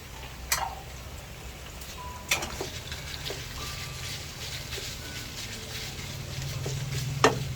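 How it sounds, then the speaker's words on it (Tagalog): Ground pork frying in a pan for spaghetti sauce keeps up a steady, low sizzle, punctuated by a few sharp clicks and clinks of a spoon against the pan. "lagyan na natin ating ground pork"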